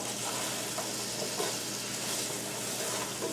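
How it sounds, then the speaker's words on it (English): Potatoes coated in garlic powder and Italian seasoning cook in a frying pan, giving a soft, even sizzle with faint stirring scrapes, fairly quiet and with no talk. "I'm just going to kind of stir this up"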